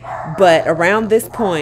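A dog yips and barks close by in a home, several quick high whimpering barks overlapping a person talking.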